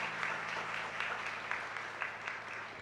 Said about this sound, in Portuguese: Mais palmas para Jesus, né?